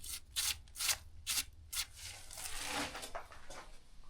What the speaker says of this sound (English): I'll just sand this all down and I push the lime plaster in there, and it makes it nice and seamless